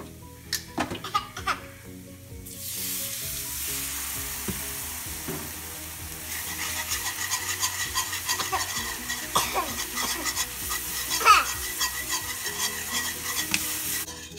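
Jalapeño bacon mixture with cumin and milk being stirred in a pan for mac and cheese, a steady close sizzle with a spoon scraping and knocking at the pan through most of the clip. Laughter is heard near the start.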